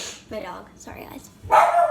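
A dog barks indoors close by, a couple of short barks mixed with a person talking, the loudest bark near the end.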